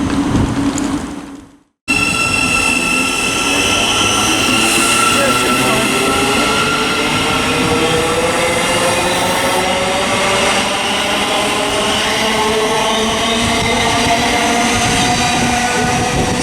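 A Thameslink Class 700 electric train on the Bedford to Brighton service departing Luton Airport Parkway station, a loud, continuous whine and rumble of traction motors rising in pitch as it pulls away close by.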